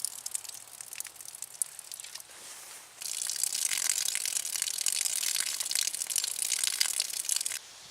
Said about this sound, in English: It's running down the drip line.